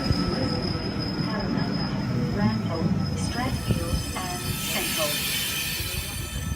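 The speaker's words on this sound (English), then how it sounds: "V10's just about to depart platform number 1, Sydney Terminal service." Sydney Trains V10 set at Katoomba platform 1 before departure, a steady loud rail rumble with high wheel squeal and a constant tone, background voices mixed in throughout.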